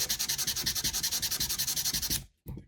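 Rapid, rhythmic back-and-forth sanding strokes on the fret crowns of a Fender Telecaster guitar, close and steady, about ten per second, stopping abruptly with one short rub after a pause.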